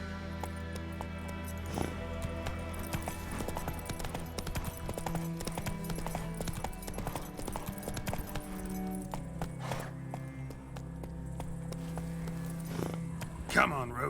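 Clip-clop of the horse Roach's hooves in The Witcher 3, a steady rhythmic trot beneath game music and ambience, with a voice speaking briefly.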